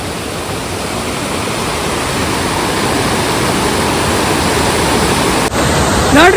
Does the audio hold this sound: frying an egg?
no